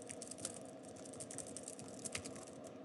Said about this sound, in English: type whatever you want without a problem